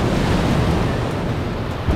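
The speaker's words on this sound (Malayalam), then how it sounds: "ഇപ്പം വെള്ളം ഇങ്ങനെ അടിച്ചു കയറുകയാണ്." Sea waves wash up at Gotheeswaram Beach in Kozhikode, a loud, continuous surf roar mixed with wind buffeting the microphone, with no voices.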